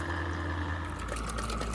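An aquarium filter is switched back on after cleaning, sending a steady stream of water pouring and splashing into the tank, with a continuous low hum running underneath throughout.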